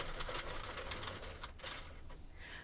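A Sentro or Addi knitting machine cranks as stitches are cast on with waste yarn, giving a quiet, steady mechanical clatter of rapid ticks for a few seconds with no talking.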